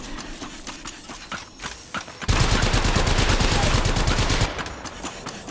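Rapid automatic gunfire from enemies in the mobile shooter Apex Legends Mobile erupts loud and sustained after scattered lighter shots and footstep-like taps, a dense burst lasting a couple of seconds before easing off.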